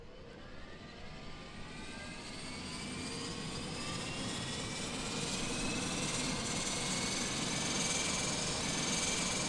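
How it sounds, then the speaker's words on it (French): Airbus A400M turboprop engines spooling up in Microsoft Flight Simulator, with a rising whine and steadily building roar; several climbing tones layer over a broad rumble, with no one talking. "j'ai l'impression que le bruit des moteurs a été atténué aussi"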